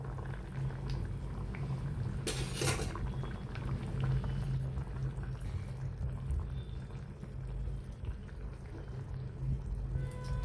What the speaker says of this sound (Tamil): குழம்பு நல்லா கொதிச்சிடுச்சு.